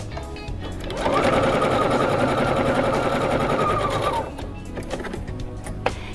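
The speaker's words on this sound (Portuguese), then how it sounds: "Eu vou costurar agora aqui, deixando um pedacinho para desvirar." A sewing machine stitches fabric for a make-up bag, a rapid, steady mechanical chatter close by that starts after a second, runs for about three seconds and stops, with quieter handling noise around it.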